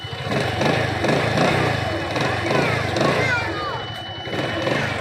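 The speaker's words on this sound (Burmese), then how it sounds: "အင်ဂျင်လေးပုတ်ပြမယ်" A motorcycle for sale is running close by at a steady, throbbing idle with slight rhythmic pulsing, while someone talks over the engine.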